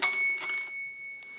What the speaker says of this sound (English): It rings a bell when you go too far.